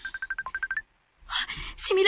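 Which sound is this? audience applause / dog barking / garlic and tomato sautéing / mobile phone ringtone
mobile phone ringtone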